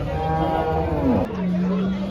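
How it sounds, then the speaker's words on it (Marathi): A farmer's cow at a busy cattle market moos in one long, loud, close call that rises and then holds steady, with market noise in the background. "बघा मित्रांनो शेतकरीची ही गाय आहे"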